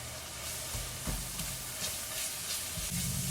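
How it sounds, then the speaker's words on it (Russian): Chopped carrots and onions frying together in a pan, giving a continuous soft sizzle and hiss with occasional stirring scrapes and clinks, no talking. "Это все вместе пока обжариваем."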